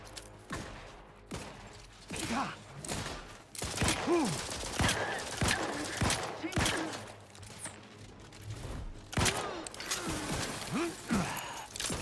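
Gunfire in the shooter game The Outer Worlds 2, sharp repeated shots in irregular bursts across the whole stretch, mixed with breathy voice sounds and gasps from a player.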